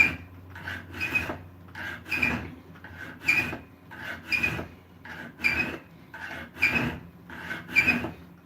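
Steady rhythmic rasping of a hand file scraping back and forth on wood, each stroke close and distinct, repeating at an even pace.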